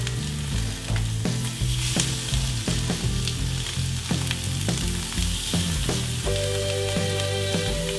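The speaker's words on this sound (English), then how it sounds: "The pan has been preheated to medium high so we can get a great sear when we put the burger on the grill." A bear meat burger sears in a pan preheated to medium high, a loud, dense sizzle and crackle running continuously, with scattered spattering pops.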